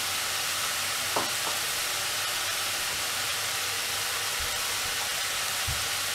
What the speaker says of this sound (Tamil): தேவையான அளவு உப்பு எல்லாத்தையும் ஆட் பண்ணிவிட்டு நல்லா கலரி விட்டுடலாம்.